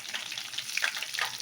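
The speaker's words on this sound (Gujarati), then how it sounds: "તો હવે લીમડો લીધો તો એ એડ કરી દેવાનું છે તમારે." Curry leaves crackle and sizzle loudly in hot oil with cumin seeds for a sabudana khichdi, a dense, steady frying hiss with sharp pops bursting through, close and with no voices.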